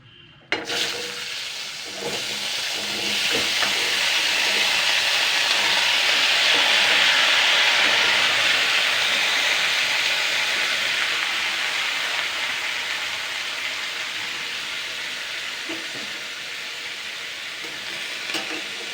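Unpeeled cut potatoes dropped into a wok with a little oil and five-spice seasoning, giving a sharp initial clatter and then a steady, loud, broad sizzle that slowly fades, with no talking.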